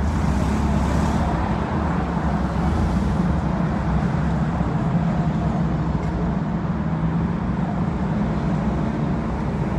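Rush hour traffic on the Dan Ryan Expressway, a dense, continuous low rumble of many cars and heavier vehicles rolling past close by, with no clear gaps between them.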